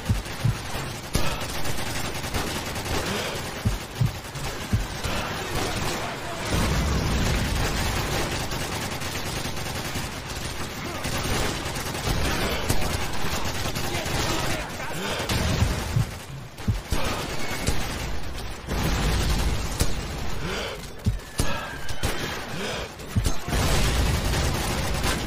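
Sustained machine-gun fire and rifle bursts in Call of Duty 4: Modern Warfare, aimed at enemy machine gunners through a wall, with dense, continuous loud volleys and occasional heavier booms.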